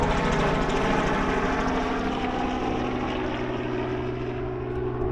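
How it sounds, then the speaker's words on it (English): A steady, droning helicopter rotor and engine roar fills the air continuously, fairly distant and unchanging, with no talking. "First helicopter of the season."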